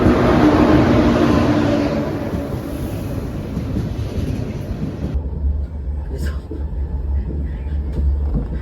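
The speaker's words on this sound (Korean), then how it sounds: "KTX 108열차가 도착됩니다." KTX high-speed train pulling into a station platform: a loud, broad rushing roar fills the opening seconds, then settles into a steady low rumble with faint clanks as the train slows.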